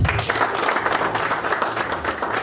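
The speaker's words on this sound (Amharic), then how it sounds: "አጨብጭቡላት።" A crowd applauds the bride during a wedding vow ceremony with dense, sustained clapping that stays loud and close for the whole stretch.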